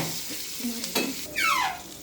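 Hilsa fish pieces sizzle in hot oil in a frying pan, a steady crackling hiss broken by scraping stirs and a spatula clack, ending in a louder swelling sputter.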